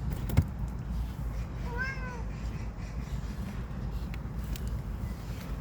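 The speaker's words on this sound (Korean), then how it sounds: "야옹야옹 소리 너무 잘해" A single faint cat meow rises and falls once against quiet outdoor background hiss in a rainy park, preceded by a sharp knock.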